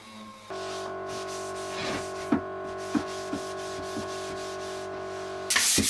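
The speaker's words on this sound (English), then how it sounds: "I then sanded down the filler with the orbital sander, cleaned it, and then gave it a good hand sanding" Steady mechanical hum of an orbital sander sanding down wood filler, with a few scraping bumps as it moves across the surface, ending in a brief louder burst.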